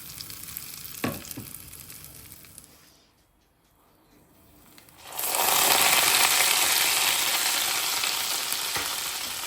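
Loud, bright sizzling bursts out as mint hits hot oil after a quiet pause, a steady crackling hiss that continues without talk.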